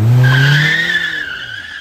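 Remote-control jumping car's tires squeal and skid on old concrete, a loud high screech that starts strong and slowly fades over about two seconds, with no talking.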